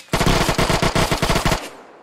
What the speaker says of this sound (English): Or the Mac 10 fires quicker, actually.